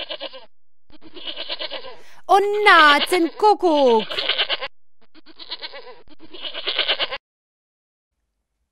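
A goat bleats several times in quick, wavering cries, close and loud, with a person speaking briefly among the calls.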